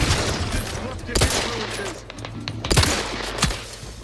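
Gunshots ring out in the video game The Outer Worlds 2. A few sharp, loud cracks come at irregular intervals over a background of rattling weapon noise.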